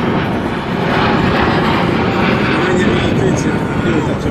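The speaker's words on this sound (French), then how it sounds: "ça s'appelle un passage à l'anglaise, et pourtant cet avion il est européen" An Airbus A350-1000 airliner making a low flyby at an airshow, its engines producing a loud, steady roar that fills the entire stretch without letting up.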